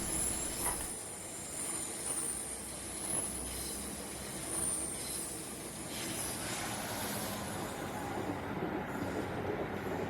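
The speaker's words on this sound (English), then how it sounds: "scenes like this of East Coast Main Line trains passing through Wetheral" An East Coast Main Line train rumbles through Wetheral station nearby, wheels clattering over the rails with faint high squeals, loud and continuous with swelling surges.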